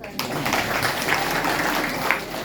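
Audience clapping in a classroom or lecture setting; a burst of moderate, dense applause starts abruptly and continues evenly.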